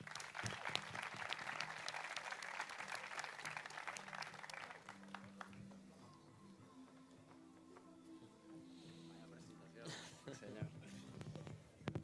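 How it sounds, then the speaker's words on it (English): Applause from an audience at a football academy player presentation evening, welcoming a coach to the stage, starts loud and dense and then thins out, with voices and some background noise continuing beneath it. "Big round of applause,"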